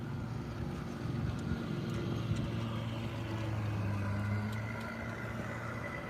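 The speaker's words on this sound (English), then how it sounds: "And there's a little dinghy going by." Small dinghy motoring by in a harbor, a faint steady outboard drone with low tonal hum under light wind noise, rising slightly then easing off.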